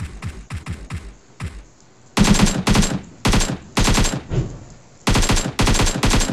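Automatic weapons fire in a PUBG Mobile squad match on the snowy Vikendi map: several sharp, loud rapid-fire bursts separated by short pauses, with quieter single shots early on.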